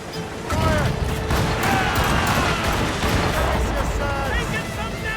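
Naval ship cannons firing a volley in the sailing-era game Assassin's Creed Rogue, a burst of loud booming blasts rolling into continuous rumbling gunfire, with shouted voices in the background.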